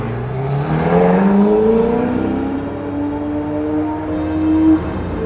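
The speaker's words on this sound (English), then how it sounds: "ça c'est pas un échappement standard" A Ferrari SF90 with an aftermarket Novitec exhaust revs up loud and close, its engine note climbing steadily in pitch with a rising whine and holding a strong roar for several seconds before easing off.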